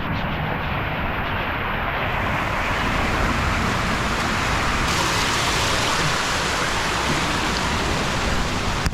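Rain falls at a beach where fishermen shelter, a dense, steady broadband hiss and patter that holds loud and unbroken, with the surf blended into the wash and no talk.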